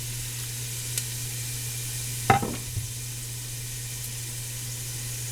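Fresh celery and onion in oil in a pan give a faint, steady sizzle over a low hum, with one brief clatter of the pan or utensil near the middle and no talk.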